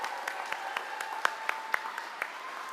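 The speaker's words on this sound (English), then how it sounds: "Let's clap up the recruits first." Audience applause at a police officers' graduation ceremony in St. Croix for new recruits, a steady patter of many hands with sharper individual claps standing out at a moderate distance.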